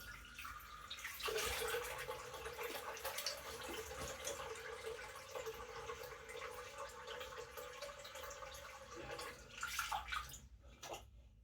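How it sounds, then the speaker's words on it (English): A Merkur Futur safety razor is rinsed under a running tap, making a steady rush and splash of water for about eight seconds before the flow stops and a few drips are left. "So I'll quickly rinse."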